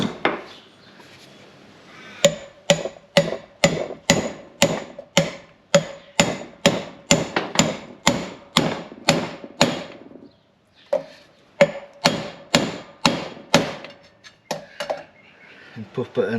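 Repeated metallic hammer blows drive a wheel bearing into a KTM 1290 front motorcycle wheel through a big socket, about twenty sharp, evenly spaced strikes, a brief pause, then another run of hits, close and loud.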